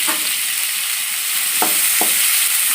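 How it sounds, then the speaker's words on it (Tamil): Onions fry with fennel seeds in hot oil, a loud steady hiss and sizzle broken by a couple of brief scraping stirs of the pan, with no talking. "சோம்பு கொஞ்சம் பொரிஞ்ச உடனே வெங்காயம் போட்டுக்கோங்க."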